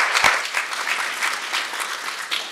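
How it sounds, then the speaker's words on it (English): An audience at a stem cell research keynote breaks into sustained applause: dense, steady clapping from many hands, fairly close and evenly loud, with no talking over it. "Please, a round of applause for doing all the stuff you do at CERN."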